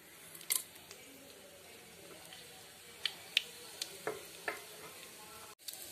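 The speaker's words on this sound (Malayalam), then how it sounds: "അപ്പൊ നമ്മുടെ കടുക് പൊട്ടി തുടങ്ങി." Mustard seeds crackle and pop in hot oil in a pan, a quiet sizzle broken by scattered sharp little snaps that grow more frequent toward the end.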